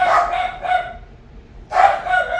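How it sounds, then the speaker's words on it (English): Dogs bark close by, loudly: a quick cluster of three sharp barks, a brief quiet gap, then another loud bark with no voices over them. "So sorry for the dogs."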